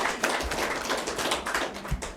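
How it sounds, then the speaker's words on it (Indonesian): Audience at an Indonesian education event clapping together, a close, steady patter of hands with a few heavier thumps, lasting about two seconds. "Tepuk tangan semuanya."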